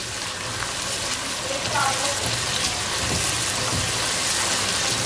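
Diced tomato cubes drop into a pan of browned onions, setting off a steady broadband sizzle and crackle of frying oil that runs throughout at moderate, close level.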